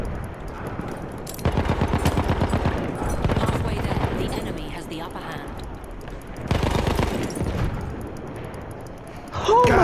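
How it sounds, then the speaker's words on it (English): Gunfire crackles through a World War I battlefield in The Great War 1916 video game, bursts of rapid shots coming in two loud waves with a lull between, while voices talk over the top. "I'll lay down suppression fire with this one goddamn bullet"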